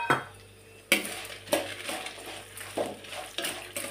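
Spices and dried red chillies frying in a pan with peppercorns, a soft steady sizzle under repeated scrapes and clinks of a spoon stirring against the pan.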